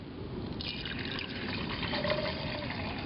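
Water pours steadily into a pot on a mini stove, about two cups, a continuous close trickling fill that brightens slightly partway through, with no talking.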